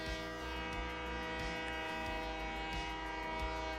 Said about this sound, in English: And then I'm going to grab a locomotive there.